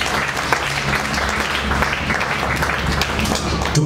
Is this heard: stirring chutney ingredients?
no